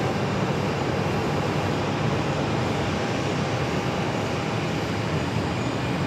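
Airliner landing at Phoenix Sky Harbor airport, a steady broad engine roar holding loud and constant from start to finish with no pauses or voices over it.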